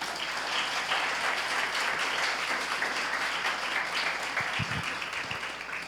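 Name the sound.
church congregation applause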